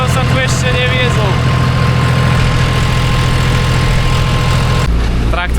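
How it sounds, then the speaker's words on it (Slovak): A slow tractor engine idles and chugs in India while being ridden, a steady, loud low rumble with a brief tonal whine early on and a shift near the end. "Na traktore som sa tu ešte neviezol."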